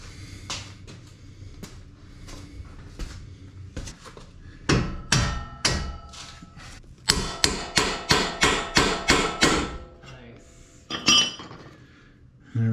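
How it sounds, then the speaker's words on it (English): A dead blow hammer strikes Bronco portal axle parts in a workshop, starting with scattered taps and building to a rapid run of about nine loud, evenly spaced metallic blows, then a final couple of hits. "Grab the dead blow, hammer that up."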